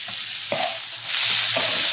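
Chopped capsicum and red chilli sizzle loudly in a pan for a mushroom and egg breakfast, with a few scraping stirs of a spatula over a steady, close frying hiss and no voices.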